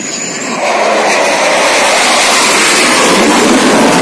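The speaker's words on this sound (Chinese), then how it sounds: "哇，来了来了，战斗机。" A fighter jet passes overhead on a trip along Taiwan's Hualien–Taitung coast: a loud, broad jet roar that swells within the first half-second and then holds steady and close.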